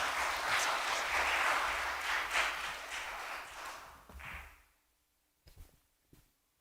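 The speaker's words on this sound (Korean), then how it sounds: "큰 박수로 하나님께 영광 올리겠습니다" Dense applause from a large church congregation fills the room, then tapers off into a few scattered claps and quiet.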